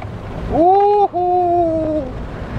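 Horn of a 2014 Honda Jazz RS facelift, two close, loud blasts in quick succession with a thin, two-tone honk over quiet road background.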